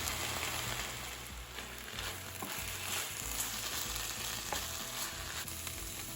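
Fish peera sizzles and crackles in a pan as it is stirred, a dense continuous frying hiss with scattered pops and scrapes, close and moderately loud, no voices.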